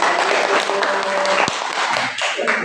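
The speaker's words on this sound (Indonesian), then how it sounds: "Tepuk tangan untuk kelompok 3." Classroom applause for a student group presenting, a short burst of mixed clapping and taps from a room of students, fairly close, with faint murmured voices underneath.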